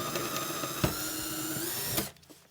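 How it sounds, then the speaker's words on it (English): A power drill whines steadily at high speed for about two seconds, with a couple of sharp knocks, then cuts off abruptly, drilling a hole in an MFT-style workbench top. "just put a square on and drill the hole"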